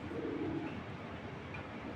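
Pigeons at a pigeon sale, a low soft cooing under steady background noise, fairly faint and continuous without talk.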